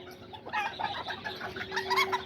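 Kikiriki Azteca hens, some of them broody, clucking softly in a coop, a short run of low murmuring clucks fairly close with a faint background hum.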